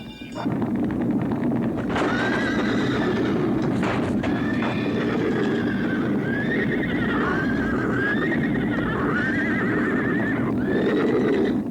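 Several horses neigh and whinny repeatedly, loud and close, over a steady clatter of hooves and a rumbling background.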